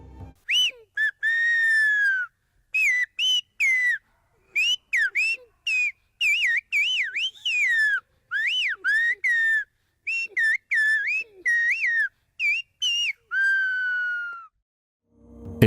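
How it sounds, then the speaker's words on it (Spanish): Silbo Gomero, the whistled language of La Gomera in the Canary Islands: a single clear human whistle in many short, sliding phrases with rising and falling pitch, separated by brief pauses, loud and close. "el lenguaje silbado que aún pervive en La Gomera"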